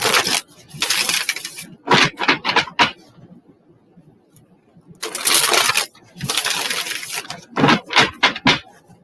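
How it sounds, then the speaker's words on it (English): A deck of reading cards shuffled by hand, several separate riffling bursts with short quiet gaps between them, close and crisp, without talk. "3 shuffles for Carrie."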